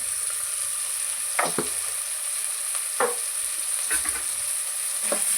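Tomato frying with turmeric powder in a pan, a steady close sizzle broken by several sharp scrapes of a spoon stirring through it.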